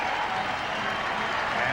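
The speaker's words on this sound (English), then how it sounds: "The crowd responding to the Boston Celtics, who have defeated the Chicago Bulls" Basketball arena crowd applauding after the Boston Celtics beat the Chicago Bulls, steady sustained clapping and crowd noise throughout at even loudness.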